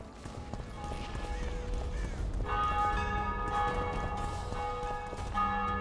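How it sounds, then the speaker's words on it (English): Church bells ring out with clear sustained tones over a busy background of hoof-like clatter, moderately distant and layered, in The Witcher 2 video game. "Hear the bells ringing."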